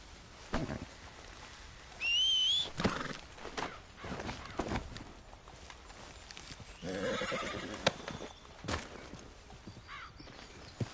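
A horse in Red Dead Redemption 2 whinnies loudly in a rising, shrill burst, with hooves clip-clopping around it and other neighs and snorts scattered through a busy outdoor soundscape.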